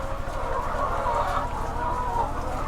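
Many chickens cluck in a steady, dense chorus at a poultry farm where birds are caught, put into baskets and weighed for sale; the flock noise is continuous and fairly loud, with no voices on top.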